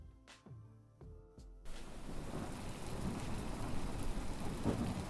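Steady heavy rain with a low thunderstorm rumble from the video game The Excavation of Hob's Barrow, entering abruptly after a few soft musical tones and continuing as a dense, close wash of falling water.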